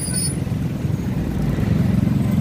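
Heavy road traffic on Visayas Avenue with cars, motorcycles and a large truck, a close, steady engine rumble and drone with no talk.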